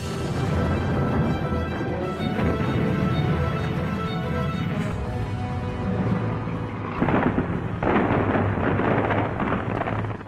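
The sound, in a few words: distant artillery cannon fire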